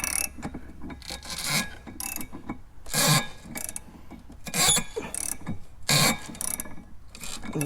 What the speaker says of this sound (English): That's the valve being opened.